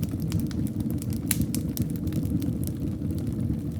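Logs burning in a fireplace of a Swiss mountain chalet give off dense, irregular crackles and pops atop a constant rumbling flame bed, near and steady throughout.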